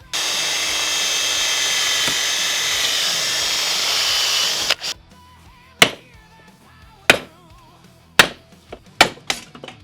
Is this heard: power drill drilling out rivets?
yes